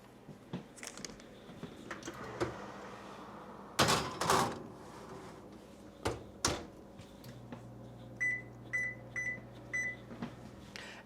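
A home kitchen oven heated to 350 degrees for baking a caramel fudge log cake: a few thuds and clunks of the door, then a run of short, evenly spaced electronic beeps near the end.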